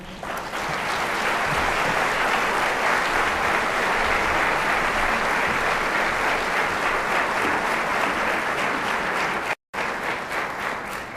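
A large audience at a gnostic gathering gives long, loud, sustained applause, a thick continuous roar of clapping hands that breaks off abruptly for an instant near the end before resuming.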